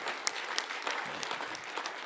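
A crowd in the main hall of an agricultural job fair applauds ahead of an awards announcement, producing a dense, continuous patter of many hands that is fairly soft and distant, with a few sharper claps standing out.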